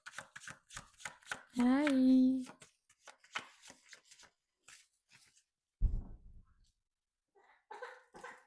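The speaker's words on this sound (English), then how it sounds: "I don't usually use these cards. They're so hard to shuffle. They're so glossy." Glossy oracle cards being shuffled, a quick riffling burst heard between bits of close indoor talk, followed later by a dull thump.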